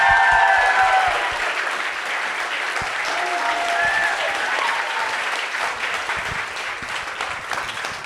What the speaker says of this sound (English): please give a warm round of applause to Sofia Coppola and Jodie Foster